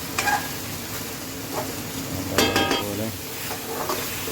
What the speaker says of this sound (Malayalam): വെളുത്തുള്ളി, ഇഞ്ചി, പച്ചമുളക് പേസ്റ്റ് അങ്ങ് ആഡ് ചെയ്തിട്ടുണ്ട്. ഒന്ന് ഇളക്കി കൊടുക്കണം.